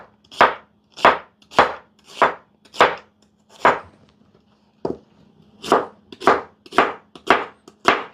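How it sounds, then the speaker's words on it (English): A knife chops through onions on a cutting board in about eleven close, crisp strikes, arriving in a steady rhythm with one short pause midway and no voices. "I'm just cutting up some onions right now."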